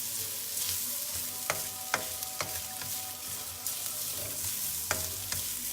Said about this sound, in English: And you're going to constantly stir that, right?